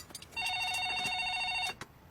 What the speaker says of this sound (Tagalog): May telepono.